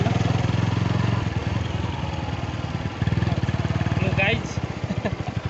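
A motorcycle engine putters at a steady, close idle with rhythmic chugging, revs briefly a little past the midpoint, then settles back. Voices are faintly mixed in.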